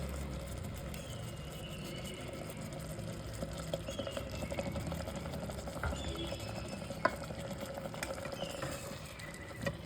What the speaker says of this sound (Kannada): ಇದನ್ನು ಸ್ವಲ್ಪ ತಿರುಗಿಸಿ ಮಿಕ್ಸ್ ಮಾಡ್ಕೊಳ್ಳೋಣ ಚೆನ್ನಾಗಿ.